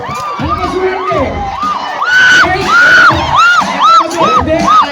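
A large, loud crowd, many young voices among it, shouts and cheers in rising whoops and drawn-out yells, near and overlapping in repeated swells at a live TV game show audience.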